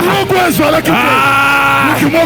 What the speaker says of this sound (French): J'entends quelqu'un crier.